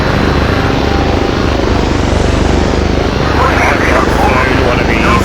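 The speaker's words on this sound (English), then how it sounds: "Can we get in the helicopter in time?" A Battlefield 2 video game helicopter drones loudly and steadily, its rotor and engine forming a dense, unbroken roar for the whole stretch.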